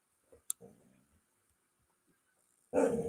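A dog lets out a few short, faint yips early on, then a louder bark at the end. The room is otherwise quiet.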